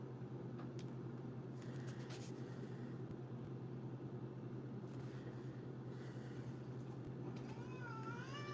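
Several cats meowing in short, wavering cries scattered over a steady indoor hum, fairly faint and intermittent, with a few sharp knocks in between.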